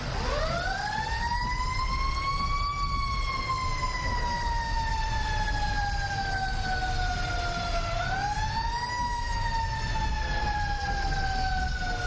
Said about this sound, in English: It's always good just to listen to the sirens.